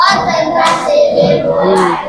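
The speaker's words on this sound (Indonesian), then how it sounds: "tepuk sore, tepuk pagi, tepuk siang" Children clap their hands in a classroom clapping game, a few sharp bursts of claps landing in rhythm under a chanting voice that leads the game.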